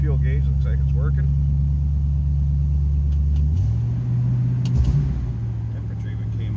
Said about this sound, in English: Let's check out that 351. It's got a nice little rumble to it.